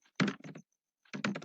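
Quick bursts of keystrokes on a computer keyboard, two short runs of close, crisp clicking separated by a brief pause, with no voice over them.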